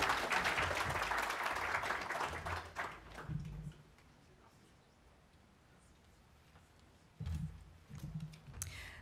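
Audience applause follows a speech at the official opening of a Senegal day event. A dense patter of clapping fills the hall, then thins and fades away within a few seconds, leaving a quiet room with a few soft knocks afterward.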